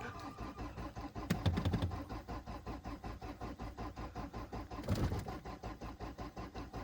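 An old diesel car engine cranks and starts in cold weather of about -10 to -12 degrees, with two loud bursts of cranking and catching over a steady, rhythmic idle clatter that runs throughout.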